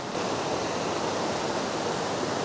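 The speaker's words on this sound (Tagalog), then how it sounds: "So lumakas din yung agos ng tubig dito." Strong, rushing water current flows steadily near the Kennon Road Tunnel after heavy rain and a landslide, a loud, continuous broadband roar with no break and no talk.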